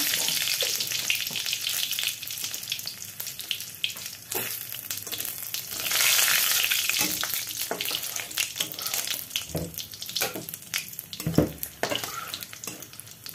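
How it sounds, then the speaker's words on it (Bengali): Dried red chillies and cumin seeds crackle and sizzle in hot oil, a steady close frying hiss with scattered pops and a brief louder burst midway, no voices. "এই যে প্রথমে শুকনো লঙ্কা দিয়ে দিলাম, তারপরে একটু এতে জিরে ফোড়ন দিব।"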